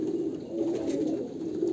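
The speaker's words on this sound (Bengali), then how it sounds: "এই হচ্ছে মাদি পায়রা, আর এই হচ্ছে নর পায়রা।" A pair of pigeons, a hen and a cock of a pale-eyed breed, coo steadily in low, soft, rolling calls close by, with no talking.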